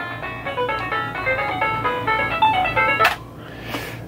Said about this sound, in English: there's the Phasor card playing 12 channel music